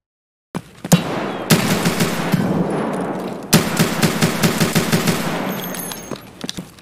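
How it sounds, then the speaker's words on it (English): Pistol gunfire in Escape From Tarkov on the Factory map: a loud, rapid string of sharp shots with echoing reverb, in bursts separated by brief gaps, ringing through an enclosed industrial space. "let me give you a couple of bonus clips where I'm playing with a pistol in factory"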